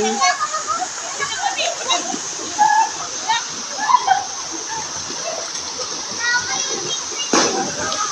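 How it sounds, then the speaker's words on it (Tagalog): The steady broadband rush of Busay Falls in Babatngon, Leyte runs throughout, with children chattering and calling nearby, splashes, and a dog bark. "Ayan yung falls."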